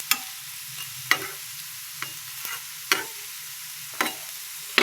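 Vegetable peel fritters fry in a frying pan with a soft sizzle, broken by about five sharp stirring or turning clinks at roughly one-second intervals; no one speaks.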